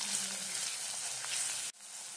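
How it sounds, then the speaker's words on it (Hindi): Crushed ginger, garlic and green chili fry with onion in a pan for a matar paneer curry, making a steady close sizzling hiss that briefly cuts out near the end before resuming. "अब उसमें अदरक, लहसुन और हरी मिर्च को क्रश किया है वो डालेंगे और दो मिनट तक भून लेंगे"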